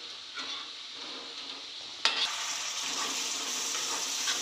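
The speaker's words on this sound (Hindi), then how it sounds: "प्याज, मिर्ची और जीरा ये सब डाल दिया है और मैं इसको पका रही हूँ।" Chopped onion, green chili and cumin sizzle in a hot pan on a home stove while being stirred, a steady close frying hiss with occasional scrapes and a sharper clatter midway, no talking.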